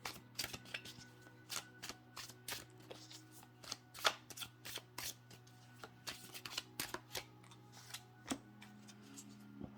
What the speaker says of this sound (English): I'm just going to pull another card there for that Two of Swords.